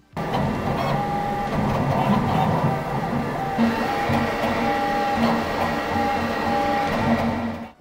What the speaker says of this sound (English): Print noise is about average. It's not particularly loud or quiet,